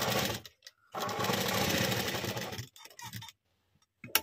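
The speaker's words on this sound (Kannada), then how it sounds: "ಇವಾಗ ಇದ್ರ ಮೇಲೆ ಒಂದು ಸ್ಟಿಚ್ ಹಾಕ್ಕೊಳ್ಳೋಣ" Sewing machine stitching a thin blouse fabric in short bursts: a loud, close mechanical rattle for about two seconds, brief stops and restarts, then quiet before a final short burst.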